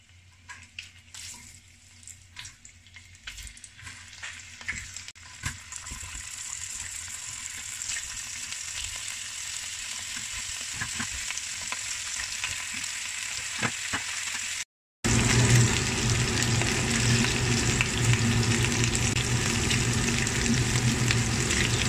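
Pork pata (pork leg) frying in hot cooking oil, a steady close sizzle that builds gradually, breaks off briefly, then returns louder and denser with crackling spatter.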